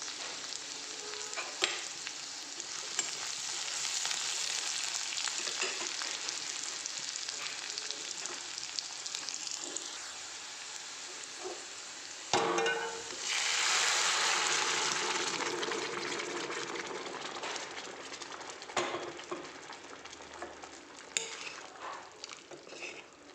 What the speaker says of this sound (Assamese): এয়া এতিয়া বেঙেনা ভাজি আছোঁ।